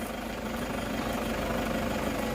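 Engine of a 2007 Toyota Hilux 3.0 4x4 with manual transmission idling steadily, a continuous close low rumble with a faint rhythmic pulse and no talk.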